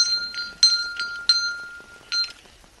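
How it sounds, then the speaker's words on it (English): Old early-20th-century Scottish shop doorbells, brass bells with cast iron clappers on steel springs, jingle in several bright, metallic bursts, each ring decaying briefly before the next; close and fairly loud with no talking. "They have steel springs and brass bells with cast iron clappers, which would ring loudly whenever the shop door was opened and closed."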